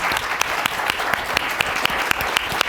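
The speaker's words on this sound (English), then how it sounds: "I want the audience to join me in thanking and applauding the panelists" An audience applauds the panelists at the close of a conference plenary session, producing steady, dense clapping with sharper individual claps standing out at regular intervals, alone and without voices, for nearly three seconds.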